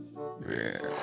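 One short, close burp rumbles out after a brief moment of quiet, a guttural rattling belch lasting under a second.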